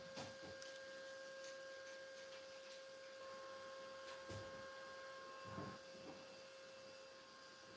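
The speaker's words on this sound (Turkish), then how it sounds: "Aşağıdan da elektrik süpürgesi başladı." A steady broadband whir of a vacuum cleaner running downstairs continues throughout, heard from a distance, with a few faint knocks and thumps over it.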